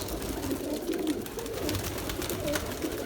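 Auction pigeons cooing nearby, with low, soft, rolling coos repeating steadily over a constant background hum.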